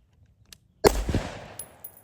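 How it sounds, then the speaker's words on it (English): An LMT rifle with an 11.5-inch barrel fires a single M855 round, one sharp, loud, close gunshot with a short ringing decay after a quiet lead-in. "we'll shoot a couple rounds just to check."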